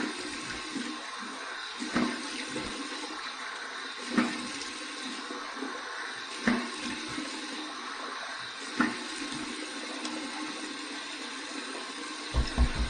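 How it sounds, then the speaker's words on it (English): Warm water runs steadily from a bathroom tap while a face is rinsed after shaving, with a continuous hiss and occasional splashes and slaps of water as hands scoop it up. "Here's my warm water rinse."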